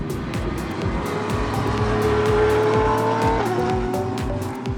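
Identical Porsche GT race cars battle for the lead at Snetterton, engines screaming loudly and continuously with rapid gear shifts and a pitch drop as they pass close by.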